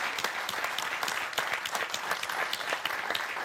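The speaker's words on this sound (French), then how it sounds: "Allez, on vous applaudit bien fort." An audience at a French slam poetry evening applauds warmly, dense steady clapping from many hands, close and lively throughout without a break.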